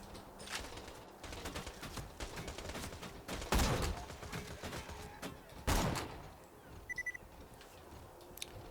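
Two loud sniper rifle shots ring out about two seconds apart in the Borderlands video game, each a sharp broadband crack with a short tail, over steady game background noise and a brief electronic beeping.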